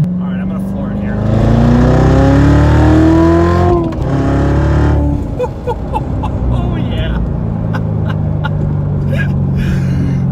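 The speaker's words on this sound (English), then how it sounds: "All right, I'm gonna floor it here." A Chevrolet Corvette Z06 accelerates hard at full throttle, its engine note climbing loudly through a rising pitch, then shifting and continuing with a rough roar, heard close from inside the car with someone talking over it.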